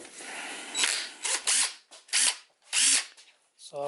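Half-inch drive impact wrench running in several short bursts of whirring, separated by brief pauses, close and fairly loud, with a brief clunk at the end.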